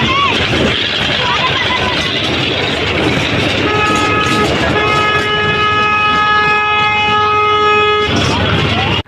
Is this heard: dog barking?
no